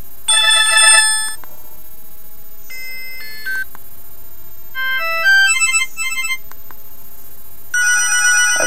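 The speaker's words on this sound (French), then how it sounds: "Voilà un téléphone qui a un son très classique" Short bursts of a classic mobile phone ringtone from a Classic Max 2 senior phone, bright electronic melodic beeps repeating in several phrases with pauses between, loud and close.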